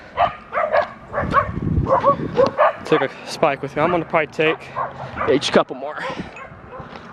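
Several dogs bark and yap in quick, overlapping bursts close by as someone talks over the commotion.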